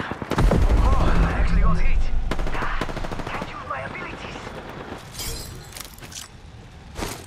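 Automatic gunfire in a video game rattles in dense, loud bursts with sharp cracks and impacts, and excited players talk over the shooting.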